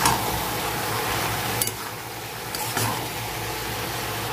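Boiled figs, chickpeas and potatoes stir-fried in spiced oil give a steady, moderate sizzle with a couple of brief scraping stirs, fairly close and without talk.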